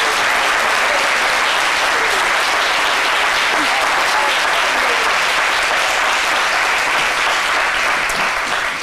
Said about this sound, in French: Avec tous ces applaudissements.